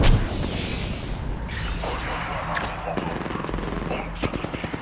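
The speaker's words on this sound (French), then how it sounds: "Je me fais tirer dessus." Gunfire in the Apex Legends video game, with rapid bursts of automatic fire and sharp shots crackling almost continuously, loud and close, against a dense mix of game effects.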